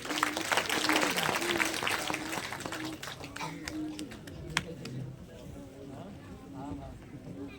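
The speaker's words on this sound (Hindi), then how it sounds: "मैं तालियों से स्वागत करें।" Audience applause welcoming an award recipient at an award distribution ceremony, a fairly steady wash of clapping that fades slightly toward the end, with voices and crowd murmur mixed in throughout.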